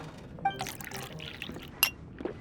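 Juice pouring into a glass in the video game Genshin Impact, a short liquid trickle with a few soft glassy clinks and a bright chime, quiet and close, without speech.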